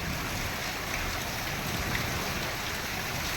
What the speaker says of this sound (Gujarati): જો કરા પડવા ઘડીક ગેરમાંથી આવે ઘડીક ગિરનારમાંથી આવે વરસાદ ચાલુ ચાલુ